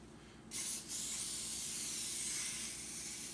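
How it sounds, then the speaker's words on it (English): Cooking spray hisses from a can onto a pizza pan, starting abruptly with a brief pause before one sustained, even spray continues to the end, close and clear. "So Maggie, can you give me a spray on that pan?"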